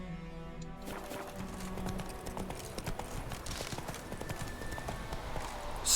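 Horse hooves clip-clop at a steady trotting rhythm in The Witcher 3: Wild Hunt, close and moderately loud, starting after a brief musical tone with soft game ambience behind.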